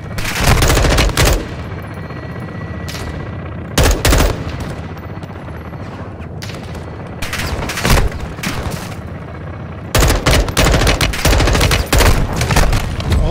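Gun run gunfire in Call of Duty Modern Warfare II: loud sustained bursts of rapid machine-gun fire arriving in several long volleys, with heavy booms and short quieter gaps between them.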